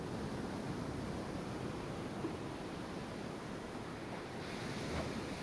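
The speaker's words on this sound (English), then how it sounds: "I never grew accustomed to the air up here. It gusts senselessly whichever way it pleases." Gusting wind high above ground in the game Hades, a steady, faint, broadband rush that stays fairly even throughout, with no voices.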